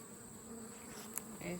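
Honey bees buzzing during a fall hive check, a faint continuous droning hum lasting under two seconds with no talk.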